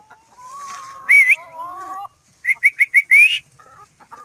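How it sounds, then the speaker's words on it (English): Backyard chickens near the ground call out impatiently, drawn-out clucks and rising squawks followed by a quick burst of five sharp cackles, loud and close with quiet gaps between. "chickens are going to get impatient as soon as I come across here"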